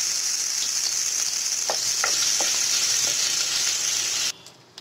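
Finely chopped onion frying in hot oil with cumin seeds, a bright close sizzle with a few light stirring taps, dropping away suddenly near the end.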